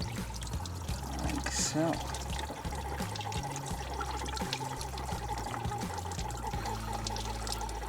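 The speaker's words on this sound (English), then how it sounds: "I can tuck the hose over it and drain more of it out." Fluid draining from a car through a hose as it is prepared for winter, a continuous trickling pour with a faint hum beneath, while a person speaks briefly over it.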